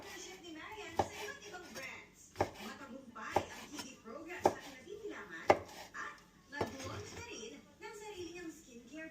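Small pieces of food are diced with a knife on a cutting board for a Filipino dish, giving a handful of sharp, irregular chops close by while a person talks over them.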